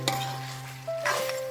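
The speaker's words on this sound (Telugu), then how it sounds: "ఇలా ఆయిల్ అంతా పైకి తేలేంత వరకు బాగా ఫ్రై చేసుకోండి" Chicken fries in hot oil and is stirred in a pan, a steady close sizzle broken by a few scraping stirs, with no voices.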